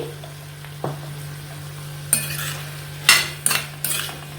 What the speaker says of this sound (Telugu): ఇవన్నీ కలిసే వరకు బాగా కలుపుకోవాలి